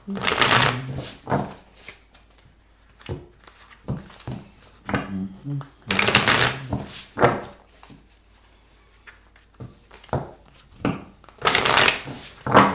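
Tarot cards being shuffled before a draw, heard as repeated close, papery riffling bursts separated by short pauses.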